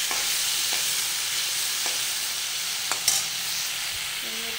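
Lentils stirred and fried in a pan, with a steady loud sizzle throughout and a few faint scrapes of the spoon against the pan, no voices.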